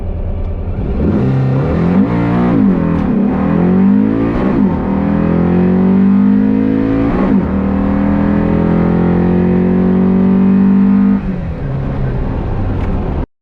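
A race car launches down a drag strip in a loud, close roar, engine pitch climbing and dropping through several gear changes before cutting off abruptly at the end.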